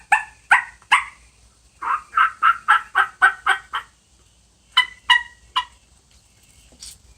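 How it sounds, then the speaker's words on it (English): A sharp, raspy turkey yelp from a diaphragm turkey call repeats in quick rhythmic runs of notes with short pauses between, loud and close. "Diaphragm call sounds a little something like this."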